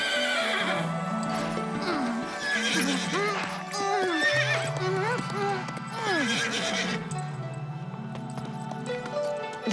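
A horse whinnies repeatedly with high, wavering neighs, hooves clip-clopping alongside, while voices speak over parts of it.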